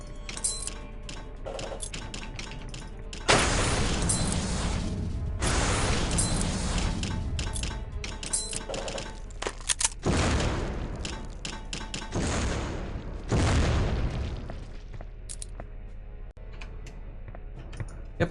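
Grenade explosions in the Soldier of Fortune II shooter game: several loud, roaring bursts go off at irregular intervals over constant clicking and crackling gunfire.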